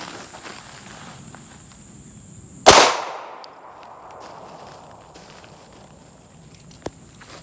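Single Glock 19 9mm pistol shot fired at a melon outdoors, one sharp loud crack with a short decaying echo, then quiet ambience with insect chirping and a faint click.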